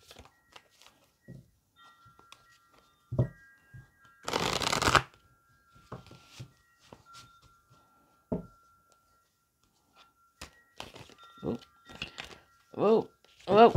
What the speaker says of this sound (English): while I shuffle the deck